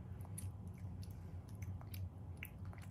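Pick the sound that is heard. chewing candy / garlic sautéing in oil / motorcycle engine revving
chewing candy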